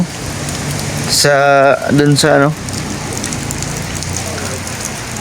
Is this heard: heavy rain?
yes